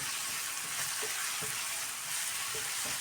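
Finely chopped onion fries in a pan for an egg curry, a continuous hissing sizzle close by, with a few soft scrapes and clinks as it is stirred.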